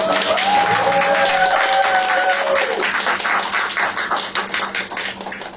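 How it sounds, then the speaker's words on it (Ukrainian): Audience applause for a children's acting showcase at a creative studio: dense clapping from a crowd, loud and close, under a fading sustained tone early on. It thins toward the end into scattered individual claps. "давайте їх всіх підтримаємо гучними гучними оплесками"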